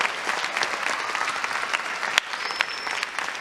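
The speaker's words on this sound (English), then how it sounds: "So can we have a big round of applause one more time for the Wenatchee Central Lions Club?" Audience applause at an Apple Blossom royalty selection pageant, steady dense clapping throughout with a brief sharp knock near the middle and a faint whistle-like tone late.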